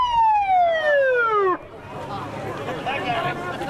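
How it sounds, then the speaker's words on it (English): A police car siren wails close by during a small-town summer parade, a loud descending tone that cuts off abruptly, followed by crowd chatter and people talking. "There's a siren."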